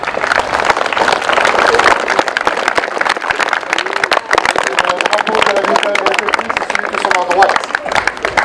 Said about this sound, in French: on peut également les applaudir